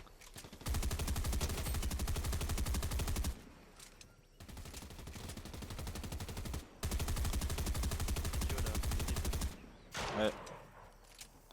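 Sustained bursts of automatic gunfire spraying in a Fortnite competitive match, three long loud volleys separated by brief gaps, with a short voice near the end.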